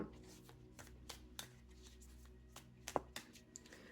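Tarot cards are shuffled softly at close range, with scattered light slaps and riffles, one sharper snap near the end, and a quiet voice faintly underneath.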